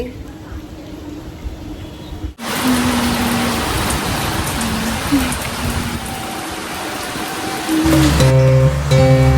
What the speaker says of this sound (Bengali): ওই টিপ টিপ করে পড়ে যাচ্ছে বৃষ্টিটা